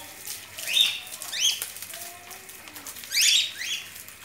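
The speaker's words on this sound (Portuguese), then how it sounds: "Gente, vocês não cansam de piar, não?" Birds in an aviary chirp in short, high bursts over a soft outdoor background. A few quieter tweets fall in between.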